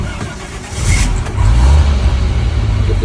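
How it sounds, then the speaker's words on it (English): An International Harvester R-140 4x4 truck pulls away, its engine rumbling up from a low idle to a louder, steady drone, heard up close from inside the cab. "So let's get driving"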